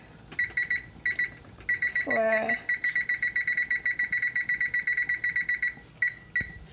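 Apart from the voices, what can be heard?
kitchen timer alarm beeping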